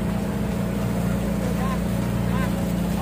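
Outboard motors of fishing boats drone steadily at sea near Tikaw Island during a sardine fishing trip, a loud continuous engine hum with steady low tones, with faint speech in the background.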